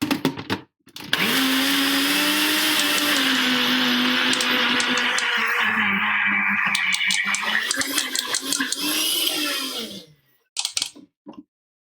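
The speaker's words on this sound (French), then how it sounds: "Donc voilà, on met au robot coupe." A Robot Coupe food processor whirs loudly and steadily for about ten seconds as it mixes butter with fleur de sel for sweet pastry dough. The motor pitch shifts slightly as the mixture turns sandy, then it stops with a few brief clatters.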